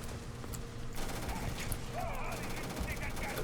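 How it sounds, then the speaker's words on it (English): Rapid full-auto gunfire in the Starfield video game, a fairly faint rattling burst running through the short clip beneath a man's speech. "Oh, there's a full auto."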